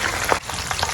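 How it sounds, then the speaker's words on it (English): A whole chicken deep frying in hot oil gives a steady, close sizzle and crackle with brief louder bursts, and no voices. "But this type of method is deep frying method."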